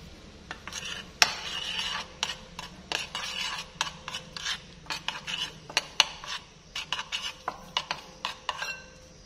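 Flour and cooking oil being stirred together into a dough, a steady run of scraping and clinking strokes of a utensil against a bowl, close and moderately loud with no talking.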